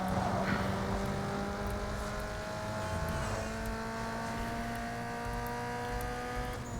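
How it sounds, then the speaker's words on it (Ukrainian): A car's engine roars continuously in Need For Speed Underground 2 during a city street sprint race, holding a loud, steady high-revving drone with rising tones as it accelerates. "Педаль до полу."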